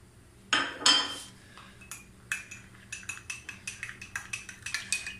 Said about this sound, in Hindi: और साथ साथ आप चम्मच हिलाते रहें।